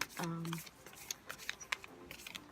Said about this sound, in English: I'm going to pull two cards.